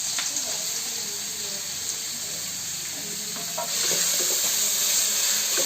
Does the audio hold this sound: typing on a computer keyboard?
no